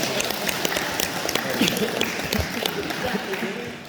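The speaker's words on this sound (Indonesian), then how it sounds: "Tepuk tangan untuk Pak Made" An audience at a talk event at Vila PLN Bedugul applauds for Pak Made, a fairly quiet, even spatter of clapping lasting the whole stretch with murmuring voices underneath.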